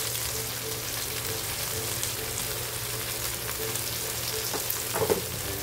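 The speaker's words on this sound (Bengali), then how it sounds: "আর গ্যাসের ফ্লেমটা একটু স্লো করে ভেজে নিতে হবে ভালো করে" Taro (arbi) pieces coated with salt and turmeric fry in a pan over a low gas flame, making a steady, even sizzle throughout with a couple of soft utensil clinks near the end.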